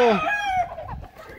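A rooster crows loudly and close, one long harmonic call that trails off, followed by softer clucking and farmyard noise.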